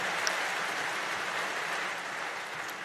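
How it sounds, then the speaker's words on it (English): Steady, dense applause from the audience at a shareholders meeting holds at an even level throughout, with no talking. "It's nice to know what lines you can get an applause for."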